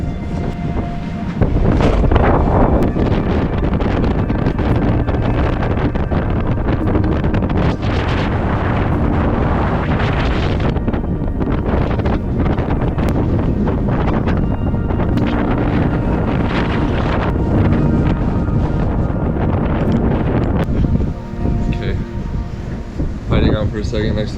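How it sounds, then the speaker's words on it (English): Strong windstorm gusts on the Isle of Skye roar continuously into an outdoor microphone, a loud, unbroken buffeting rumble that only dips briefly near the end. "I've never felt wind like this"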